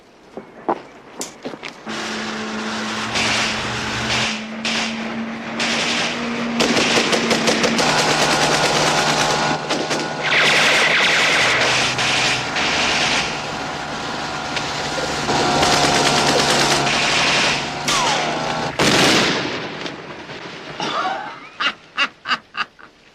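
Automatic gunfire and heavy grenade launcher blasts crash through a TV drama firefight, dense bursts and loud impacts repeating over about twenty seconds, with a final string of sharp separate shots.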